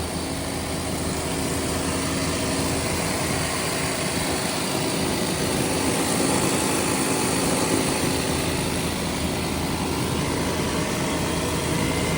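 A 1968 Shelby GT350 convertible with a 4-speed and a working smog pump runs steadily at a constant, fairly loud drone for the whole stretch, with no voices.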